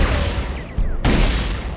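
Plasma rifle fire in the game Tribes 2, loud and close, with a sustained blast, a brief dip and then a second heavy burst, heard alone without talk.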